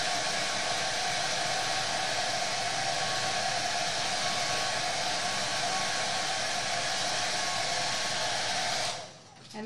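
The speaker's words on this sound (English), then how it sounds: "Now that we've got it, I'm going to quickly blow dry." A hair dryer blows steadily on freshly painted suede roller skates to set the paint, a loud continuous rushing hiss that stops abruptly near the end.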